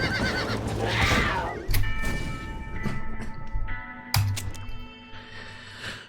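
A horse whinnies loudly in Red Dead Redemption, with sharp knocks and crashes of hooves breaking in between, and no talking.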